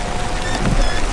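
Rain patters steadily on a car during a drive through a safari park, a close, dense drumming with no voices.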